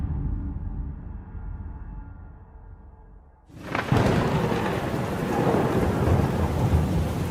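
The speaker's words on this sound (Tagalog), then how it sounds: "Masyado nang lumalakas ang ulan." Heavy rain with thunder: a low rumble builds for the first few seconds, then a loud crack of thunder breaks and a dense, steady downpour roars up close until the end.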